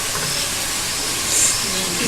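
Finely chopped onions frying in a pan, a steady broadband hiss of sizzling oil heard close and continuous without clear pops.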